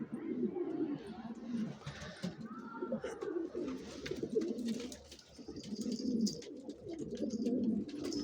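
Pigeons coo steadily in a dusty, uncleaned loft, making low rolling calls that overlap continuously at close range, with faint chirps and shuffling behind them.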